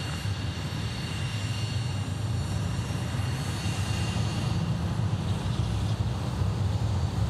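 A BAe 146 jet airliner at Sydney Airport gives a broad, steady engine roar that holds at a constant level, heard from nearby across open ground with no voices.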